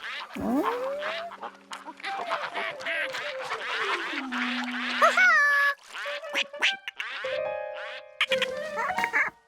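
A brown-feathered cartoon duck quacks in a rapid run of squawky, comic calls, some sliding in pitch, clear and close with brief pauses and no other voices.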